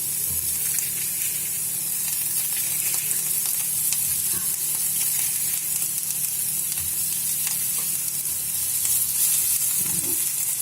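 Thin onion slices fry in a little olive or vegetable oil in a skillet, giving a continuous close, loud sizzle and hiss that holds steady throughout.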